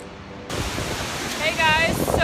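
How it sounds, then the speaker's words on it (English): A waterfall near Juneau, Alaska, rushes as a loud, constant broadband roar that starts abruptly, with voices and a brief whistling tone over the water noise. "Look at this waterfall."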